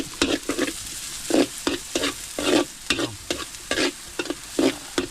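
Chopped garlic and onion sauté together in a hot pan for bopis, with loud, rhythmic bursts of stirring and scraping over a steady sizzle and no talking.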